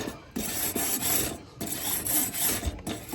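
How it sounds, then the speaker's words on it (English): A grill grate brush scrapes down between the rails of a grill grate in several long, steady rasping strokes, close and fairly loud, with short pauses between passes. "is the grill grate brush, and it's made to go between the rails. So I just scrape it down, not too hard."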